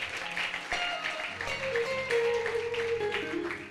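Church congregation applauding at a worship service, a dense wash of clapping mixed with tonal music or singing in the background, steady and moderately loud throughout.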